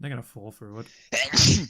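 A single loud, sharp sneeze bursts out right after a person finishes a sentence, during a tabletop Dungeons & Dragons game session.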